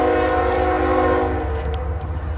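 Union Pacific locomotive 7898 leads a reefer fruit train past near Sacramento, California, with a loud sustained multi-chime horn blast over heavy rumbling engine and wheel noise, fading slightly toward the end.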